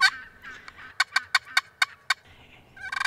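A wild turkey hen yelps in a quick series of about eight sharp, evenly spaced notes at moderate distance, with further raspy yelping calls around them outdoors.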